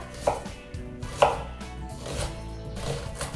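Knife chopping half a red onion on a board for vegan chili, a few sharp separate cuts near and fairly soft over a quiet kitchen background, no talking.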